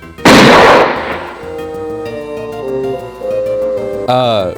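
A loud burst of gunfire and explosive impact from the Marvel Rivals video game bursts out and then rings into tonal, musical effects, ending with another sharp synthetic hit and a voice faintly in the mix.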